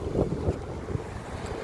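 Cold wind gusts by the sea at Mahboula in Kuwait, buffeting the microphone with uneven low rushes, and faint surf sits beneath the blustery noise.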